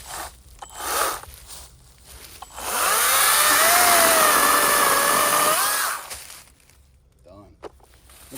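A chainsaw fitted with a Kakei replacement chain cuts through a tree stump in one loud, steady burst of about four seconds, with rising and falling whine, after footsteps and handling noises and before a voice speaks.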